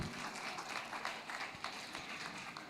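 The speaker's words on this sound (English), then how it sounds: "A very big round of applause once again." A crowd at a children's winter carnival applauds, a steady dense patter of many hands clapping at moderate level throughout.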